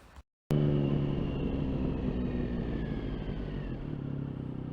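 Motorcycle swinging through a U-turn, a brief cut of silence then a sudden loud engine rumble that holds steady and close, with a falling whine as it comes round.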